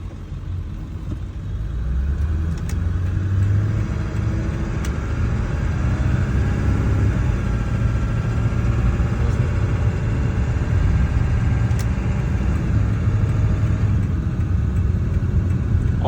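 A 2000 Ford F250 with a 7.3 Powerstroke diesel engine drives along with a constant deep rumbling drone heard from inside the cab, steady and fairly loud throughout.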